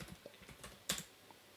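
Fingers tap a computer keyboard in a quick, uneven run of soft clicks, one sharper keystroke standing out, close and fairly quiet.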